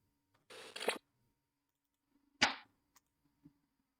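Gunshot sound effects triggered on a Dropwig VTuber 3D model: a sharp, noisy burst followed about two seconds later by a second crisp crack, with small clicks trailing after, all fairly quiet.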